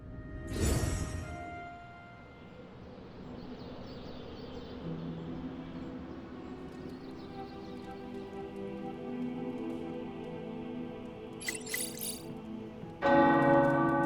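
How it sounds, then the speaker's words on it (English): Tower bells ring out in the video game Marvel's Midnight Suns, a sharp strike followed by long resonant decay and lingering tones, with a brief tinkling and a second bright strike near the end. "The tower bells are ringing."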